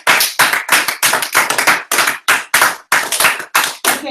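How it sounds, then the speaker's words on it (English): Small classroom group applauding after a student presentation, with close, loud clapping in uneven bursts separated by short gaps, few hands and no talk. "Let's give him a round of applause."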